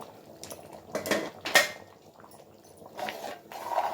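Chicken and potato curry is stirred in a cooking pot and then covered with its lid, with several sharp metallic clinks and clatters of utensil against pot, no voices.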